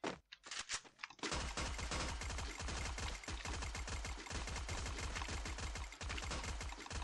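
Sustained SMG fire from the battle royale game Free Fire, a rapid, dense rattle of shots after a brief scattered opening, loud and close and continuing almost without pause to the end.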